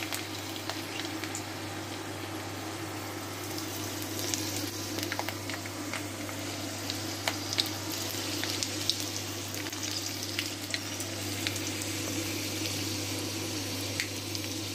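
Garlic sizzles steadily in hot oil in a home kitchen, a continuous close crackle with scattered pops over a low steady hum, no voices.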